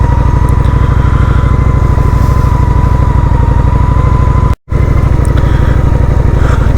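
A Honda Shadow 750 motorcycle engine drones loudly and steadily while riding, a continuous low rumbling pulse with a brief dropout near the middle, heard alone without talk.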